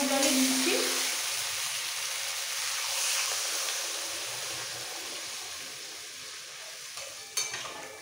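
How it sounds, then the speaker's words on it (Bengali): Water poured into a pan of vegetables and spices that were fried for a fish curry with potato, papaya and pointed gourd: a steady, loud hiss and sizzle runs throughout, easing slightly over time, with a brief clink near the end. "এবার দিয়ে দেবো জল। নর্মাল জলে দিচ্ছি।"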